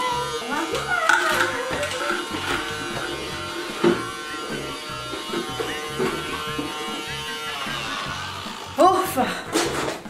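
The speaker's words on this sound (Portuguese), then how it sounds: "Terminei de aspirar." A vacuum cleaner runs with a steady buzzing motor hum and a strong tonal whine, with voices talking over it, before the motor cuts off near the end.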